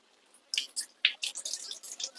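Garlic cloves being washed in water, with short wet splashes and squishy drips in separate bursts, close and fairly faint.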